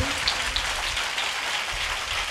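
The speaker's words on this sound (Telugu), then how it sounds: "అందరు గట్టిగా చప్పట్లు కొట్టండి." A Sunday church congregation keeps clapping loudly, giving a steady dense patter like rain that holds even and sustained throughout.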